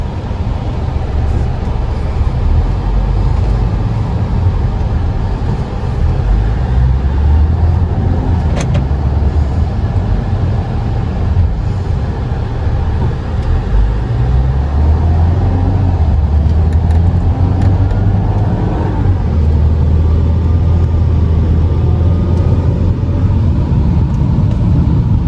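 Steady low rumble of road and engine noise inside a 2011 Ford Fusion SE sedan while driving, a continuous muffled drone with no talking.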